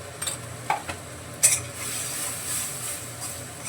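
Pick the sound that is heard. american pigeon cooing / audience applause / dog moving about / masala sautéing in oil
masala sautéing in oil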